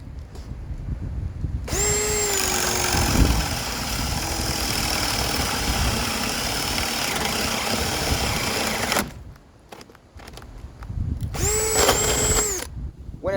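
A Baur 20 volt cordless drill spins at high RPM, a loud sustained whir for several seconds, stopping, then starting again briefly with a rising pitch at spin-up.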